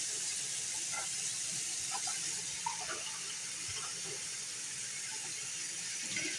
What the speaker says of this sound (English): I'm going to start adding water.